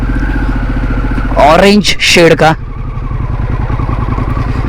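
A Harley-Davidson Pan America 1250 adventure motorcycle idles on an off-road trail, its loud steady engine rumble running throughout while someone speaks briefly over it in the middle.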